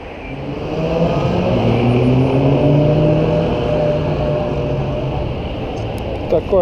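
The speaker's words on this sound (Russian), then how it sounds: "Такое количество мотоциклистов." Motorcycles ride through a Madrid street around the Dos de Mayo area, their engines droning and whirring with rising tones, joined by broadband traffic noise and a brief clatter near the end.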